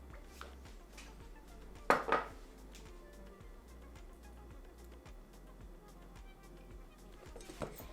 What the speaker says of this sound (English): Mix or toss to ensure all pieces are coated.